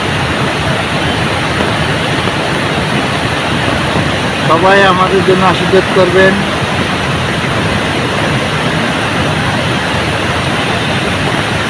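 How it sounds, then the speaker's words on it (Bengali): The Ichamati river rushes down through hilly country in a loud, steady, close roar of water that never lets up, and a voice speaks briefly partway through. "এখানে পানির আওয়াজ, পানি কিভাবে নেমে আসছে পাহাড়ি এলাকায়।"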